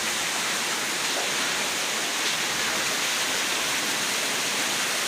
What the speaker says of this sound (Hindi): बहुत तेज़ बारिश दोबारा शुरू हो गई।